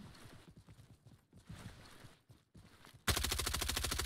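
Scattered, muffled shots in the Roblox game Frontlines pop at irregular intervals before a loud, close burst of rapid automatic fire takes over and hammers on steadily. No one speaks.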